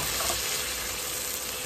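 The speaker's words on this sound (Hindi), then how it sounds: "अब इसमें डालेंगे अपने चॉप किए हुए टमाटो यानी कि टमाटर" Chopped tomatoes dropped into browning onions in a frying pan, raising a dense, constant close-up sizzle with no pauses.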